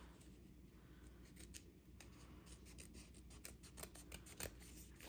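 Scissors snip and trim paper for a junk journal embellishment, a run of quiet crisp cuts close up with light rustling of the paper between them and no talking.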